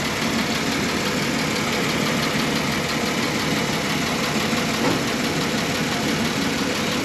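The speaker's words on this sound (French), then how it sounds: "ce 6 cylindres, flathead, bien régulier, bien doux, bon ralenti, pas de vibration" A 1939 Plymouth business coupe's flathead six-cylinder engine idles smoothly and evenly, a steady close mechanical rumble with a fine regular beat and no voices.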